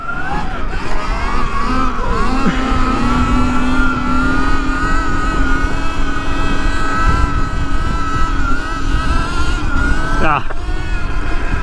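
An electric motorcycle climbs a hill while doing a wheelie, its motor whining in a steady rising tone over wind rush and tyre noise, close and loud throughout.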